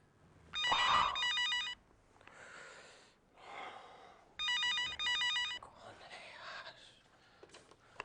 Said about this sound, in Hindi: कब से फोन बज रहा है तेरा?